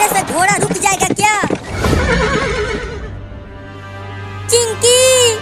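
A horse neighs loudly with repeated whinnies and clip-clop hooves on a road in a Hindi desi comedy skit; people talk over the opening, then a final loud whinny rings out alone near the end.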